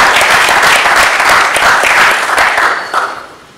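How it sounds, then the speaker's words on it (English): Sustained, dense applause from an audience filling a hall, steady and loud throughout before tapering off near the end. "Please a round of applause for yourself."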